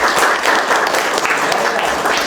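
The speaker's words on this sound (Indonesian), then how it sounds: "Tepuk tangan dulu." A classroom of students claps together during a math lesson, producing a brief, loud, close burst of dense hand clapping that fills the whole moment.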